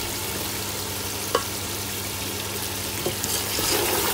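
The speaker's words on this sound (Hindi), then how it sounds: "मसालों के साथ चिकन को 2-3 मिनट के लिए अच्छी तरह भूनना है।" Chicken fries with spices in a pan for chicken korma pilau, giving a steady close sizzle broken by a few sharp clinks of stirring, with no one speaking.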